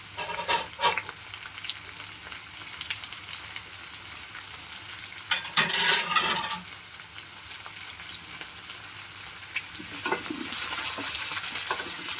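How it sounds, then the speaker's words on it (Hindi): Mushrooms for a creamy mushroom paneer dish sizzle loudly and steadily in a pan, broken by close scraping and clinking bursts of stirring and a louder hiss near the end. "मैंने मशरूम को भी फ्राई करना है, गोल्डन ब्राउन कलर तक"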